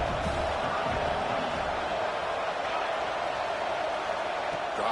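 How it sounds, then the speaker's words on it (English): A stadium crowd at a football game on third down gives off a continuous broad roar of cheering and noise, steady and fairly distant, with no distinct voices standing out. "Third down, and the crowd really getting into it."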